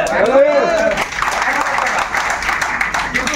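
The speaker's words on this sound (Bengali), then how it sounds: "তালি হবে" An audience at a business income talk breaks into applause after a short spoken line, a dense, fairly loud wash of clapping that carries on to the end.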